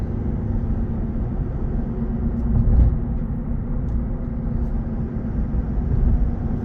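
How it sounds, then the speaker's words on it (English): A 2023 GMC Sierra 1500 AT4 pickup rolls along on a test drive, heard from inside as a low, steady road and engine rumble with no speech. "Alright, we're going on a quick test drive."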